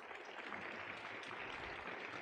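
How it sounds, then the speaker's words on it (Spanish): Audience applause at a university session on the modular system, a steady dense clapping wash filling the room throughout. "Un aplauso,"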